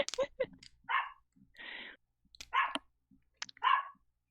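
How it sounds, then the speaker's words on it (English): A dog barks in the background indoors, several sharp separate barks with short gaps between them, fairly faint, with one breathy whine-like burst in the middle. "That barking in the background is Bubsy."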